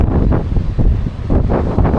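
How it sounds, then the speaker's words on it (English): Strong wind buffets across an open ferry deck near the sea, a loud, gusty roar that swells and dips unevenly over the short stretch, with no voices. "Very windy, but not that cold"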